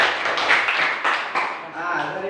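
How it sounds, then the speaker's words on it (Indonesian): Students in a classroom give a short round of clapping for a classmate, a brisk burst of many hands that tapers off partway and picks up again briefly, heard fairly close. "tepuk tangan untuk Maksi"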